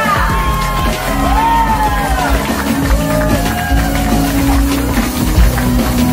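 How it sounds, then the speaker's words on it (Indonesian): A crowd at the launch of the first Dulux Experience Store in Bekasi, Indonesia, yells, whoops and cheers loudly together, with voices rising over a dense, continuous din. "Kita berikan tepuk tangan yang meriah untuk membuka Dulux yang pertama di Indonesia"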